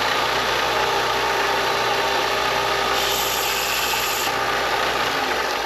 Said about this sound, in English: I'm gonna go over to a sander here and take care of it there. Make it ultra flat.